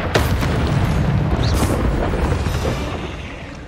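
A fiery spell blast in the video game Hogwarts Legacy, heard as a loud, sustained booming roar with crackling bursts, continuous and close for several seconds with no talk over it.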